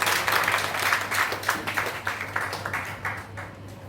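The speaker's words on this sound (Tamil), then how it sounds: "நல்ல கைத்தட்டல்" An audience claps together at a Thirukkural association function in a Madurai college hall, a dense burst of applause that gradually thins and fades over a few seconds, with a steady low hum in the background.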